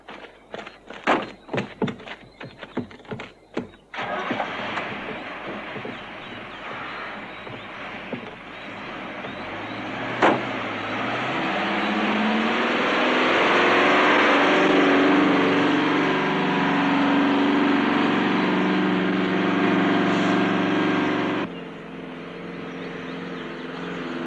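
A car is started and driven away: a few sharp clunks open, then the engine catches and its pitch rises as it pulls off, settling into a loud, steady drone before dropping away.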